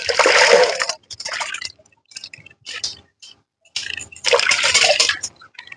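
Guavas of Taiwan Pink and Red Diamond varieties washed under running water, with a steady gush of water and splashing in several bursts separated by short pauses, close by and with no talk.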